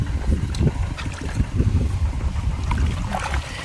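Steady wind gusts roar across an open rice field during planting season, a continuous rumbling buffet on the microphone with faint rustling and no voices.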